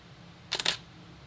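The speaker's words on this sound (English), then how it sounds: "You can just hear the shutter speed slow down, and it's a lot brighter." Single-lens reflex camera shutter firing at 1/15th of a second, a crisp close double click with a short gap between opening and closing, alone against quiet room tone.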